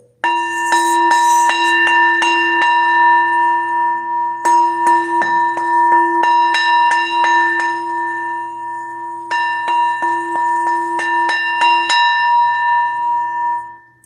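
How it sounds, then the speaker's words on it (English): A small bell is struck several times and rings clearly, each strike followed by a sustained, bright ringing tone that lingers before the next hit; loud and close, with no talking. "All I did was just hit the little bell."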